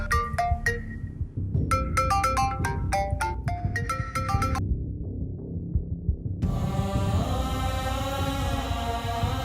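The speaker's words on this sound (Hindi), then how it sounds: "कॉल आ रही है, अटेंड तो करें" A phone ringtone plays as a bright electronic melody of quick plucked notes, pauses, then continues as a denser chiming tune over a steady low rumble.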